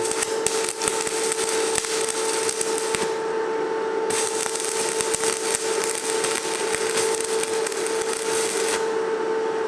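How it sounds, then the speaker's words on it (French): Stick welding powered by an EcoFlow Delta portable power station, laying a bead with 3.5 mm rods: a steady, loud crackling hiss with a constant electrical hum that runs unbroken throughout, with no talk. "Là, j'ai fait de la soudure, j'arrive à souder un bon cordon."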